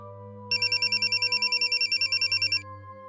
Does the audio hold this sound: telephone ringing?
yes